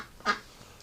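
A single short duck quack, fairly close and clear, standing alone against quiet outdoor background in winter.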